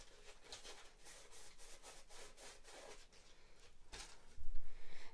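A tube is cut into to form the brim of a hat for a homemade evil snowman decoration. Steady, rhythmic sawing strokes rasp along close up for several seconds, ending in a louder, heavier scrape.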